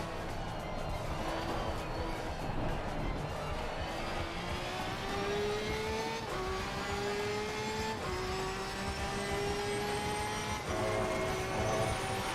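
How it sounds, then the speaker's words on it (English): A race car drifting to warm its tyres in the Assetto Corsa Competizione racing game gives a loud, continuous engine drone whose pitch climbs in steps between gear shifts over about twelve seconds, with no talking. "I'm just doing a bit of drifting to warm the tyres up"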